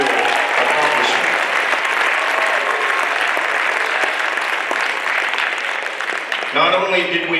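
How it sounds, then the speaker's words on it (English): Sustained clapping and light cheering fill a room for a girls' wrestling state championship celebration, a full crowd applauding steadily before a voice begins speaking as it dies down. "that's where applause number one needs to begin for our girls' unreal accomplishment"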